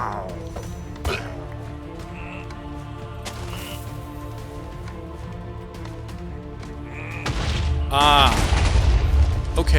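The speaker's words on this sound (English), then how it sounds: "Okay, so chests explode too." A treasure chest blowing up in a parkour vault video game: a loud booming burst near the end, swelling over continuous game noise, busy effects and music.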